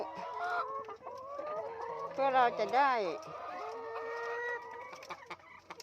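Chickens cluck and squawk close by, with a louder drawn-out call in the middle, while someone talks in Thai over the birds.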